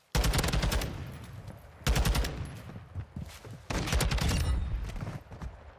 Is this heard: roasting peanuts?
no